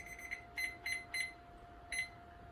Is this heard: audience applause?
no